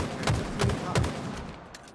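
Three sharp, evenly spaced gunshots in the video game Halo Infinite, followed by a couple of fainter distant shots as the burst trails off.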